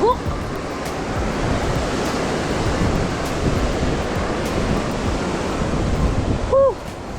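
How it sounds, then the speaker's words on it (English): River water rushes steadily during a mountain bike river crossing on the Nevis Range trails near Fort William, Scotland, a loud continuous broadband roar close to the microphone, with a brief tonal squeak near the end. "I'm crossing this river here."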